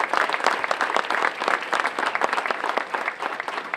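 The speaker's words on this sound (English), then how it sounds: "How about a round of applause for" An audience at a gospel choir event gives a round of applause for the state delegation, with lively individual claps popping out of a full, steady ovation.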